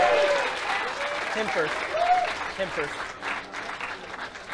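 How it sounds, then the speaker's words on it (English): A crowd at a balisong knife-flipping competition at a blade show applauds the semifinalists with sustained, fairly loud clapping, as a voice speaks briefly over it. "Let's hear a big round of applause."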